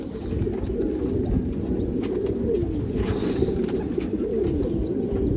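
A large male pigeon coos by itself in a steady, repeating series of low throaty calls that carries on without pause, close by, with no talk.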